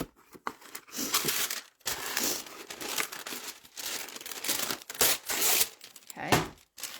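Wax paper crinkles and rustles close by while a thin die-cut paper image is worked free from a cutting die, in irregular bursts of crackling with brief pauses.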